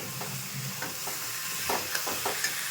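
Chicken pieces fry in a pan while being stirred, with a steady sizzle and repeated scraping strokes of the spoon close by, no voices.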